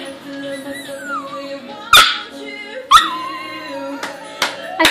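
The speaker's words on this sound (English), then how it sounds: "I think you learned that bark from Addie." A female dog whines and whimpers in long wavering tones close by, broken by three sharp, loud barks spaced about a second apart, with a person talking to her.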